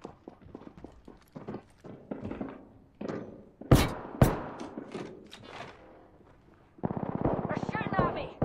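Gunfire in Apex Legends played on Nintendo Switch, with two sharp loud shots followed by lighter scattered pops and then a sustained burst of rapid fire near the end, mixed with footsteps and game sounds.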